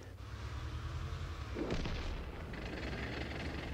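A tank cannon fires in a video game, one deep booming blast partway through that rises over a constant low engine rumble and fades into a lingering roar.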